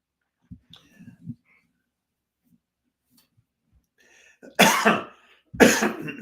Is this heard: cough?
yes